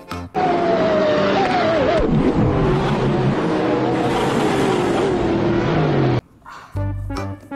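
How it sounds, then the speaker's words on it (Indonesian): A toy race car from a children's toy vehicle collection, loud and continuous with a wavering, revving engine-like whine that drops out abruptly near the end, followed by a few brief bursts. "Ada juga mobil balap."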